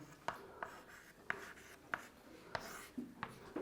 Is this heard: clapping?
no